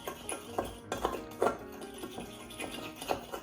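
Powdered Lakanto brown sugar gets stirred into hot butter, with a utensil clinking and scraping against the pan in an uneven rhythm of soft taps, close and fairly quiet.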